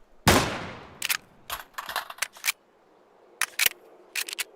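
Dual Berettas pistols being reloaded in Counter-Strike: a sharp opening snap, then a series of crisp metallic clicks and clacks in short separated groups, close and clean against silence.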